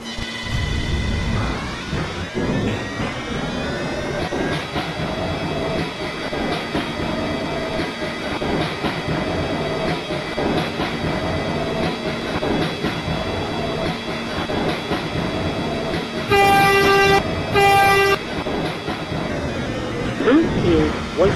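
An R143 Siemens subway train on the L Line in Roblox runs steadily with a continuous rumble and rail noise, with a brief bright tonal chime near the end.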